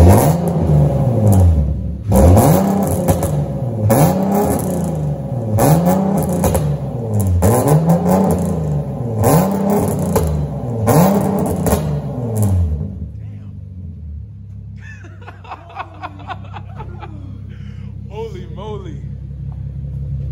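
Nissan 370Z with a custom single exit and the resonator deleted revs repeatedly, each rise and fall of the engine note loud and close for about twelve seconds, then it settles to a rumbling idle while a voice talks.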